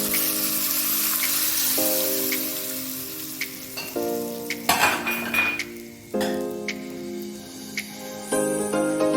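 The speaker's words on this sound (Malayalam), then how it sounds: "നമുക്ക് എണ്ണയ്ക്കകത്തേക്ക് കറിവേപ്പിലോട്ട് ചേർത്ത് കൊടുക്കാം" Mustard seeds and curry leaves crackle and sizzle in hot oil for a Kerala mango pickle, with bursts of popping, light clinks and a faint steady tone underneath.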